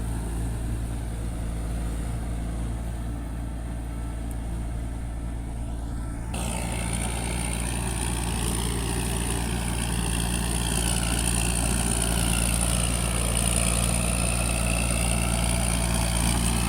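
A P11C rotary tiller churns a rice paddy, its engine running with a steady, loud drone that grows slightly fuller partway through, with no voices.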